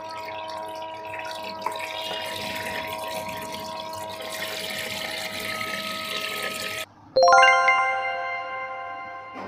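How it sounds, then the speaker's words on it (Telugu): Water streams steadily from a toy doll's shower, a continuous hiss that drops out briefly near the end before resuming, accompanied by bright ding-like chimes. "ఇప్పుడు షవర్ ఆన్ చేద్దాం."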